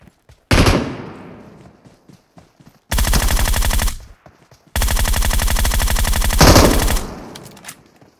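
A single loud gunshot rings out in the video game PUBG Mobile, followed by two long bursts of rapid automatic gunfire, close and harsh, with short silences between them.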